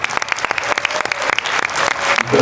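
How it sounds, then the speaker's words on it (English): Loud, dense applause from an evening event crowd saluting a team standing to be recognized, continuous rapid clapping close by with a few standout claps, holding steady throughout. "would y'all just please give them a hand clap?"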